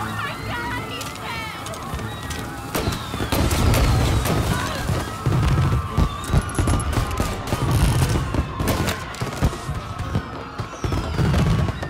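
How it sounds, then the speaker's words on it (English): Fireworks burst in rapid, crackling volleys during a scripted scene in the video game Mafia Definitive Edition, loud and dense, with deep booms and a crowd's noise running underneath. "And now for the fireworks"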